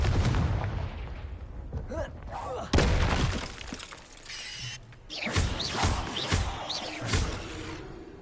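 The Confringo blasting spell is cast in Hogwarts Legacy, giving several loud, explosive bursts and crackling blasts spread across the stretch, mixed with other combat noises and some talk.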